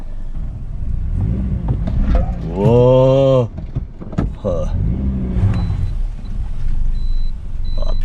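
A Toyota Yaris engine runs steadily and close, with a rising whine as it revs, while a man briefly exclaims over it.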